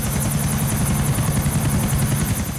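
A helicopter in a GTA video game flies with a steady, loud rotor drone and rhythmic blade chop, constant throughout with no speech.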